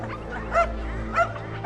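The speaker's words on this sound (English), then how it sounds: "Shut up, Minnie. You're not even my dog" A dog gives two short, yipping barks about half a second apart, close and loud over a steady low engine hum inside a vehicle.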